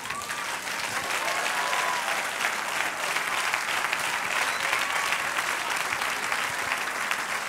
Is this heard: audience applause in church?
yes